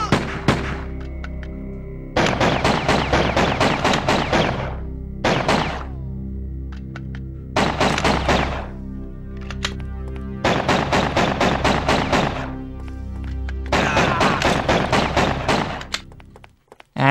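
Sustained bursts of automatic gunfire from the PS2 game Miami Vice, about six loud volleys separated by brief pauses, each a dense rattle of rapid shots with no talking.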